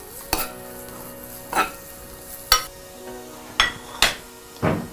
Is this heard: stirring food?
yes